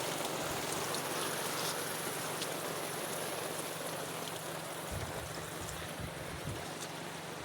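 Strong water rushes continuously beside a vegetable farm, a steady broad hiss with a few faint low thumps near the end and no speech.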